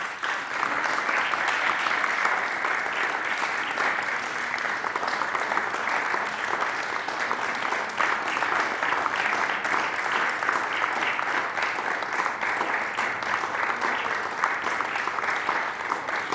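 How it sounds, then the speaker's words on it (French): Senators in the French Senate chamber applaud steadily throughout, a dense, sustained patter of many hands clapping at even loudness with no voices over it. "Vous avez les seuls applaudissements de la journée, il faut en profiter, Monsieur Schroedt-Girard."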